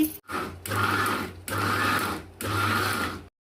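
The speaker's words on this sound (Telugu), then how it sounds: "రొయ్యలన్నీ నేను జార్లు వేసేసాను మిక్సీ జార్లో ఇదంతా కచ్చా పక్కగా నేను మిక్సీ పట్టడానికి వెళ్తున్నాను" A kitchen mixer grinder runs in three pulses of loud, steady motor whirring as it grinds raw prawns in its jar, with brief pauses between bursts and no voices.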